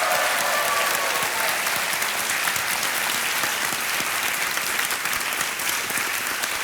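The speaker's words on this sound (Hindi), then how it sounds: "जोरदार तालियां बज जाए इनके लिए।" Loud, steady applause from a studio audience on the Indian quiz show Kaun Banega Crorepati, dense clapping sustained evenly throughout without a break.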